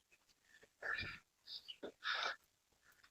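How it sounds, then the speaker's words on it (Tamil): After a hike uphill through dense forest, someone breathes heavily in a few loud, ragged puffs with short gaps between them, close to the listener. "சும்மா சோம்பேறியாக இருந்தால் மூச்சு வாங்க தான் செய்யும்"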